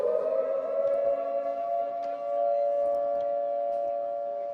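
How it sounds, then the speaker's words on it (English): A civil defense air raid siren sounds at a school rugby match on a drizzly oval, holding one steady, sustained wail at fairly loud level throughout, with no talking. "Wait for the air raid siren."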